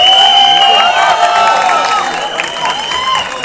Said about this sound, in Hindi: Round of applause दोस्तों,